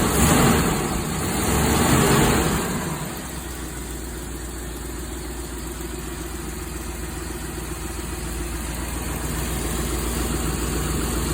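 A 1974 Winnebago Brave D19 motorhome engine idles steadily with a freshly rebuilt carburetor, a loud, close, continuous rumble that swells briefly early on and then holds an even drone.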